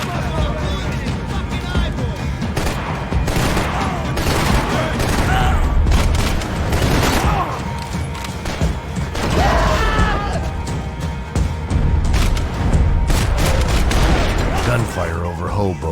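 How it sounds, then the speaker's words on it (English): Rapid bursts of gunfire crackle alongside heavy crashes and booms in the video game Max Payne 3, set in a firefight over Hoboken, with dense loud volleys continuing throughout and a voice briefly heard. "Gunfire over Hoboken."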